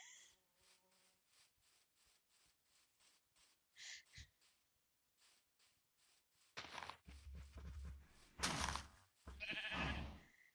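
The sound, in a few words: sheep bleating in Minecraft video game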